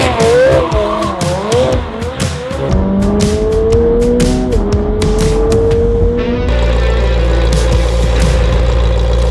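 A rebuilt McLaren 720 sports car drives hard, its engine rising through loud revs with tire squeal and skidding, then settling into a deep steady drone, close and loud throughout.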